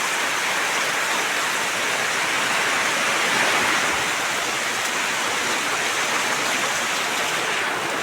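Heavy rain pours down in Kerala as a dense, continuous roar of water that stays steady throughout, with no voices heard.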